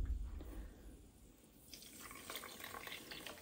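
Mineral water trickles and splashes as it is poured into flourless pancake batter in a kitchen; the sound is faint, close and brief, with no talk.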